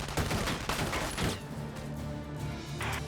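Rapid bursts of gunfire in the Valkyria Chronicles 4 game, several quick volleys crackling close and loud, then a sparser tail with a final burst.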